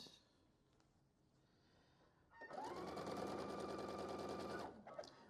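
Domestic sewing machine stitching a quilt block, a steady fast whirring run of about two seconds that stops abruptly, with quieter handling noise before and after.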